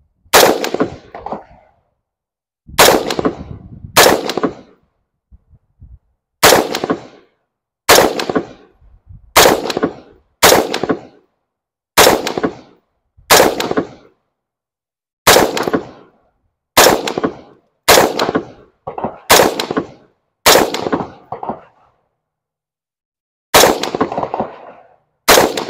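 Rifle with iron sights firing on a shooting range, single loud sharp reports spaced about a second or two apart with brief pauses between strings, each shot close and ringing out in open air.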